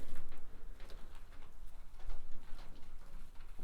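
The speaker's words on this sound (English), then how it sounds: "There's a bird on the roof and it freaked me out for a second." Bird moving on a barn roof, giving soft scattered taps and scratchy patter with faint cooing-like calls, steady and fairly close overhead without talk.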